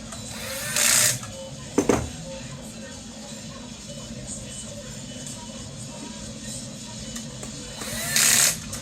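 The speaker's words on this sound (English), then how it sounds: "we're going to add another 2 screws on either side of that dovetail to lock it in" A power drill drives screws into a dovetail joint during an assembly: two short, loud whirring bursts at the start and end, with a brief clunk between them over quiet background.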